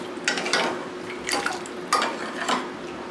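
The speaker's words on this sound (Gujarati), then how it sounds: "અને હવે આપણે પાણી ઉમેરી હલાવી લઈશું." Moong dal being stirred in a pressure cooker pot after water is added, with several scraping clinks of a spoon against the metal in short bursts, close and moderately loud.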